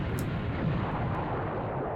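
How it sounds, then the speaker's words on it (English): A broad, dense explosion from the PS1 video game Silent Bomber rumbles steadily for a couple of seconds, loud and sustained without any voices. "Look at that explosion, those fireworks."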